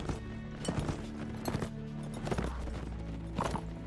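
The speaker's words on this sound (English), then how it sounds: "I got a lame horse" Horse hooves clip-clop in a Warband mod medieval battle game, the horse going lame, a steady rhythmic run of hoofbeats over a dense backdrop of game sound and music.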